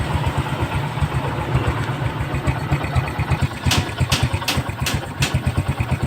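A motorcycle engine idles close by after repair of a corroded positive battery wire, with a steady, throbbing putter, joined midway by a few sharp metallic clicks.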